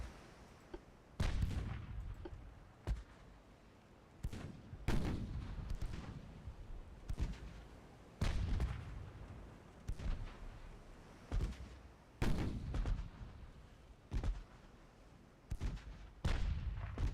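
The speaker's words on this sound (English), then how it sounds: "I just like how the guns literally go where they have to avoid hitting him" Naval guns fire in Ultimate Admiral Dreadnoughts as a warship chases an enemy vessel from astern. Sharp, loud reports arrive about every one to two seconds in a steady, evenly spaced rhythm, each ringing out briefly before the next.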